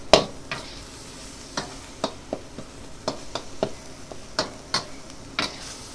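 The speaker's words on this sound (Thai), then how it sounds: "เวลาผัดมันจะไม่แห้งเลยแหละ หมูคัดพิเศษเนื้อแดงล้วนจ้ะ" Lean pork being stir-fried for Thai khua kling curry, a run of sharp, separate scrapes and taps of a utensil in the pan over a soft, low sizzle, spaced irregularly and close by, with no talking.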